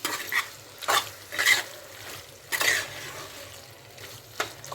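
Broad bean and tomato curry being stirred in a pan, with soft scraping strokes of a spoon coming in several short bursts over a quiet background hum. No one speaks.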